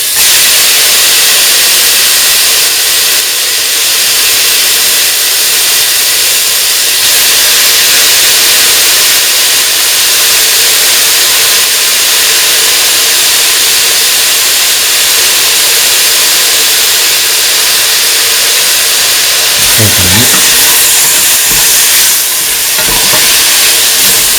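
Green chili and spinach leaves sautéing in a pan for a spinach potato coconut milk rice, a steady loud sizzle and hiss running throughout with occasional stirring scrapes, without any talk.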